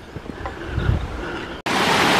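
Mountain water rushes near a lake in the Néouvielle nature reserve of the Pyrenees, a broad hissing flow that grows louder and closer after a brief cut, with wind-like noise underneath.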